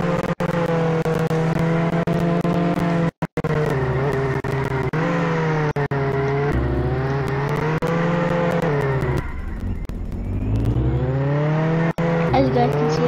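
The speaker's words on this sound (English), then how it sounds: "I have to spawn another Camaro" A Camaro in the Roblox game Jailbreak drives with a loud, continuous engine drone whose pitch rises and falls as it accelerates and eases off, with a few brief cuts in the sound.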